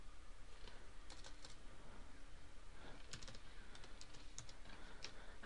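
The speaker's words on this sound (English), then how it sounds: "man, I'm typing really slow." Quiet typing on a computer keyboard, irregular clusters of soft key clicks with short pauses between bursts.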